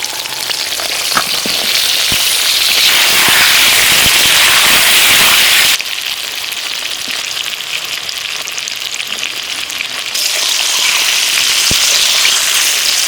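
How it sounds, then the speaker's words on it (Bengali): Eggplant and potato pieces fry in hot oil for a Bengali rui fish curry, a loud, steady dense sizzle with crackling pops throughout, briefly dropping in intensity midway before swelling again. "বেগুনগুলো ভেজে নিচ্ছি আলুর সাথে।"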